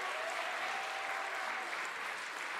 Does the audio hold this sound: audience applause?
yes